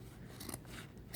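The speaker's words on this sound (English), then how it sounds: "I'm gonna cut both pieces of fabric at the same time." A good pair of scissors cuts through two layers of fabric at once while sewing a stuffed animal, making a few faint, quiet snips and rasping rubs close by.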